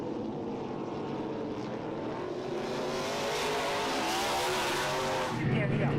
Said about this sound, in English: It's not just the Mustang, it's a symphony of V8s going by.